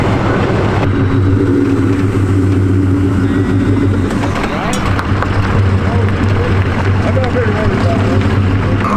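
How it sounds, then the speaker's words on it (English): Off-road vehicle crawling slowly up a trail obstacle during a riverside beginners clinic, its engine a loud, constant low rumble that holds steady throughout with little revving, close to the listener. "Just drive really slow and then the wide swing and just drive straight up."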